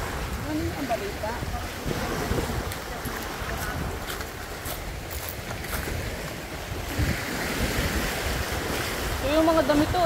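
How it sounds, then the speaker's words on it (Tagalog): Rough sea waves wash and break while strong wind buffets the microphone, a steady roar with surging swells, close by and loud, with faint voices underneath. "Malakas na ang dagat guys."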